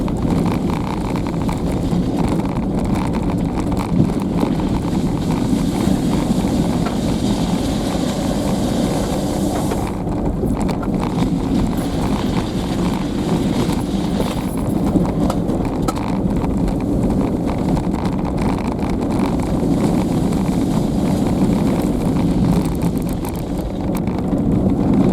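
Warmed-up motor vehicle rolling over beach gravel at Te Horo Beach, a continuous rumbling crunch with heavy wind buffeting, steady and fairly close, no speech.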